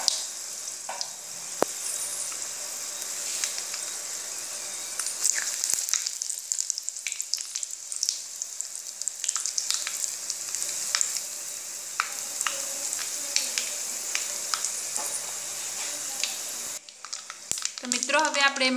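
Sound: curry leaves sizzling as they fry

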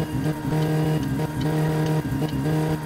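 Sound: car accelerating to overtake in the video game My Summer Car

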